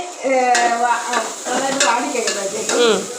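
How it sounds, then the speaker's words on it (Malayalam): Onion, ginger and garlic sauté in a pan with a steady sizzling hiss and occasional stirring, while a voice talks or hums over the cooking throughout. "ഇഞ്ചിയും വെളുത്തുള്ളിയും കൂടെ ചേർക്കാം അത് നന്നായിട്ടൊന്ന് വഴറ്റിയെടുക്കാം"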